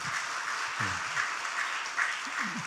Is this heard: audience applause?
yes